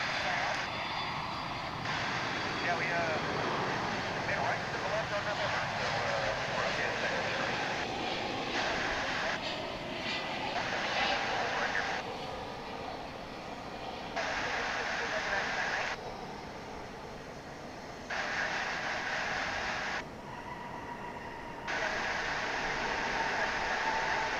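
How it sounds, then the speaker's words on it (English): A Boeing 767 airliner at DFW Airport, its jet engines a steady broad roar at a distance that rises and falls slightly over a long stretch, with a person talking over it. "This will be a 767."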